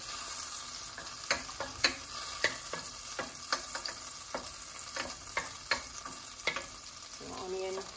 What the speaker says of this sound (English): When these butter cubes melt, I will be adding the onions and green peppers and sauteing it.